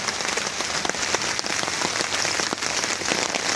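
Rain falling on a campsite in Nakhon Nayok, Thailand, a dense, steady patter of drops on tents and surfaces, loud and continuous throughout with no talk.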